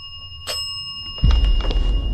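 A small bell rings twice indoors in a quiet room, a brief bright chime near the half-second mark and another at the end under a sudden burst of louder low-end noise.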